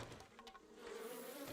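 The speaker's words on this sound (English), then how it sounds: "Man, bees every single time." Bees drone and buzz close by in the survival video game 7 Days to Die, a faint, steady insect hum with a rising and falling pitch.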